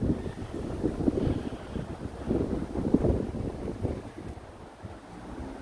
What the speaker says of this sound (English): Just get out of the wind.